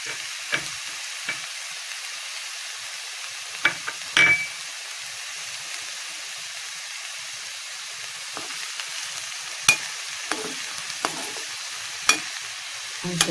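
Fried dry prawns stir-fried with snake gourd in a pan for a Kerala-style thoran: a soft continuous sizzle with scattered sharp clinks and scrapes of a spoon against the pan.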